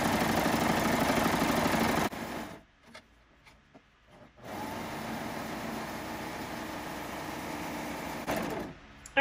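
A serger sewing machine stitches jelly roll quilt rows, running steadily at close range for about two seconds, stopping briefly, then humming on again at an even pace before a final pause.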